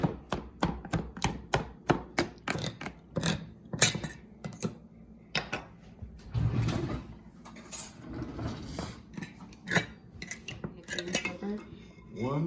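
Salsa ingredients being crushed and chopped in a kitchen, a rapid series of sharp knocks and clatters against a board and dishes with a brief quiet voice.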